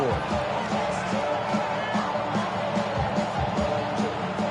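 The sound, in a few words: crowd noise in Madden 26 video game stadium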